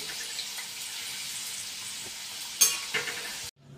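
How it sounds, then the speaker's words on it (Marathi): Masvadi, stuffed gram flour rolls, deep-frying in oil with a constant soft sizzle, a couple of louder stirring clatters near the end before it cuts off, no talking. "ह्या पण वड्या आपण अशाच खरपूस रंगावरती तळून घेऊ"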